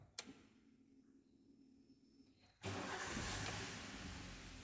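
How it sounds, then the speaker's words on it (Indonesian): A helper car's engine cranks and catches, then settles into a steady, fairly loud idle. Quiet ambience comes first, with a few faint ticks and a short start at the very beginning, before the engine bursts in. "Oke, mobil penolong sudah hidup"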